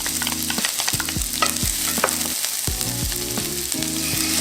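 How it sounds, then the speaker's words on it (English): Half a diced onion fries in butter and olive oil, a constant close sizzle with repeated scraping stirs and clinks of a utensil against the pan, low humming bursts recurring throughout. "we're going to just take some butter and olive oil. Okay, mix that around there. We got about half an onion diced."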